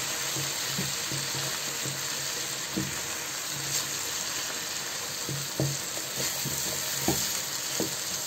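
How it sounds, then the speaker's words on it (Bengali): Chicken pieces frying in a pan after being flipped to cook the other side give a continuous sizzling hiss close by, with soft intermittent clicks and taps of a utensil and a low steady hum underneath. "আরেক পাশে উল্টিয়ে দেবো, একটু হালকা ভাজা হলে ওই পাশটাও ভেজে নেব।"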